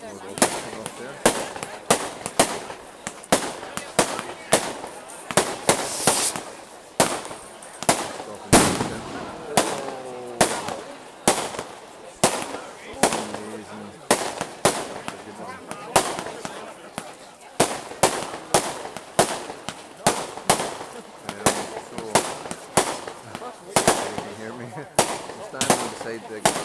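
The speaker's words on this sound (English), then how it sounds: "More rockets coming off there." Firework rockets bursting at an outdoor bonfire night display in Whiting Bay, with loud sharp bangs and crackles going off in rapid succession throughout, heard from the middle of a crowd while people chat nearby.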